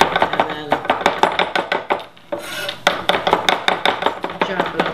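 A knife chops smashed garlic on a board in rapid, even close strikes, pauses briefly for a softer scraping sweep, then resumes its steady chopping rhythm.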